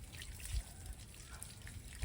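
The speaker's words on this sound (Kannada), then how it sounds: "ನೀರು ಹಾಕ್ತಾನೆ" Water trickles and splashes onto the soil around a freshly planted sapling, a soft, close, continuous dribble with a few louder splashes and no talking.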